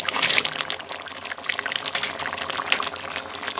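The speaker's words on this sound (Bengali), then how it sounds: "এবার আমি এর মধ্যে দিয়ে দেবো ভেজে রাখা মাছগুলো।" Pieces of fried fish drop into a pot of boiling vegetable curry, a loud splash at the start followed by continuous bubbling and gurgling liquid.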